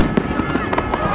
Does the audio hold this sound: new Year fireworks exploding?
yes